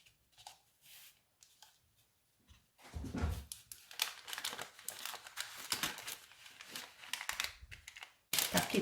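Paper wrapper being folded like an envelope around chicken with spring onions, ginger and chili, close crinkling and rustling in short bursts with quiet pauses.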